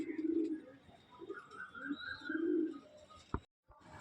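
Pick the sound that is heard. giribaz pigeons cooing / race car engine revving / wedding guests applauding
giribaz pigeons cooing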